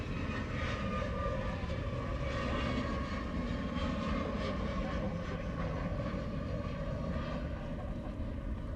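A heavy airliner on the runway at Honolulu airport produces a steady, distant roar of jet engines that holds at an even, fairly faint level without a break.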